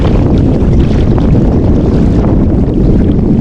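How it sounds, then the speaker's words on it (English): Strong wind at Red Willow (Hugh Butler) Lake in McCook, Nebraska, a loud, continuous roaring rumble of gusts buffeting the microphone, dense and unbroken throughout. "And here comes the wind. Wow, this is a really strong wind."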